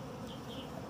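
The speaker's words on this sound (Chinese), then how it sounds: "这个蜜蜂好像一直往外钻了，估计这个王已经快出来了" Wild honey bees swarming at a hive during hand honey harvesting, a dense continuous buzz of many insects close by, steady and unbroken.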